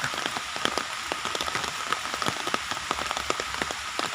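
Steady rain falls outdoors where an elephant stands getting wet, a dense hiss of drops with many sharp individual patters striking surfaces close by, continuous and even throughout.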